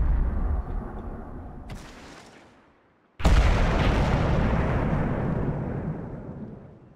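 Two tank cannon shots boom in the World of Tanks video game, the first rumbling and fading, then a louder second blast with a long decaying roar.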